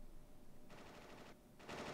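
Gunfire in the Final Fantasy 8 video game during a prison escape, two short bursts of rapid shots, faint and distant over a low background hum.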